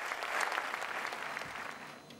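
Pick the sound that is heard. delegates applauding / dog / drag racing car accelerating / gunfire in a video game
delegates applauding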